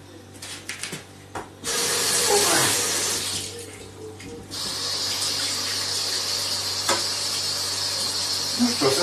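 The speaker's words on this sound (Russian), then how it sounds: "Сейчас нам остается только промыть эту кастрюлю." Water from a tap splashes into a saucepan as it is rinsed out, with a few clanks and scrapes first and then a loud, steady rushing flow that drops briefly before surging back.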